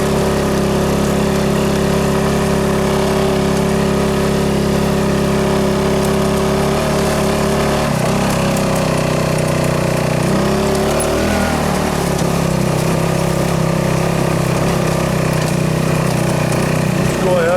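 American Sportworks Carbide 150cc go kart engine droning steadily up close while climbing a steep incline, its pitch shifting midway under load, with a voice talking over it.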